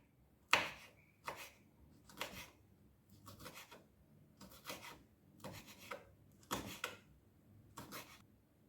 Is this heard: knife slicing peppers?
yes